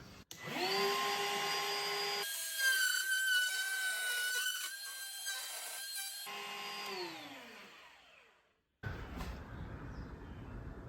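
A power router whines at high pitch while cutting a hinge recess in wood with a hinge jig, running up, holding with some bite changes, then spinning down before a brief pause and more noise.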